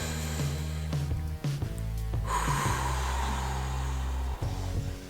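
A long, deep breath drawn during a shoulder stretch in a home workout, a soft airy rush heard over steady background music, with no talking.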